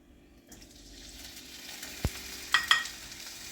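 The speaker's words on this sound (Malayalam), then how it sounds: "ചട്ടി ചൂടായി, നമുക്ക് ഇച്ചിരി നെയ്യ് ഒഴിച്ചു കൊടുക്കാം." Ghee sizzles in a hot iron pan, a soft steady frying hiss that slowly builds, broken by a few sharp scraping and stirring knocks near the end.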